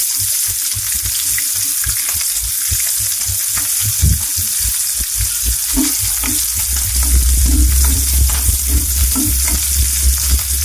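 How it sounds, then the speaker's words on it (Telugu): Onion and green chillies sizzling steadily in hot oil in a pan, with occasional stirring scrapes, close and continuous with no talk. "ఆయిల్ మంచిగా హీట్ అయిన తర్వాత దాంట్లోకి ఆనియన్ అలానే పచ్చిమిర్చి అయితే వేసుకున్నాం"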